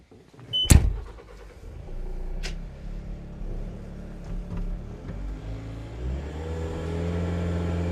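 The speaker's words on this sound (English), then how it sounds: "I'm going to fire this machine up, we're going to run it around" A 2022 Bobcat S76 skid steer cranks with a sharp starter burst, then its diesel engine catches and idles steadily, revving up and growing louder near the end; no one talks.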